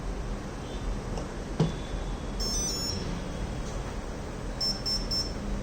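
Two short clusters of high electronic beeps from a BLDC motor controller sound over a steady background hum, the first near the middle and the second toward the end.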